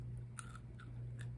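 Someone bites into crunchy freeze-dried onion pieces, cut small rather than in strips, making a few brief close crunches over a low steady hum.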